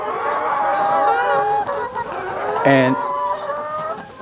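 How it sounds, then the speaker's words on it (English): Chickens peck at papaya while clucking and squawking close by, with a louder honking cackle near the middle and a brief spoken word near the start. "They're just pecking away."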